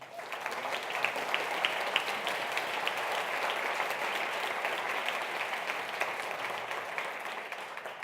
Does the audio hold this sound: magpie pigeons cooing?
no